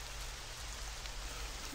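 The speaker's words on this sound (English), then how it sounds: "It's a rain." Rain falling in the Quake 2 mod Lazarus, a faint, steady hiss of drops pattering with a low background hum, continuous and without voices.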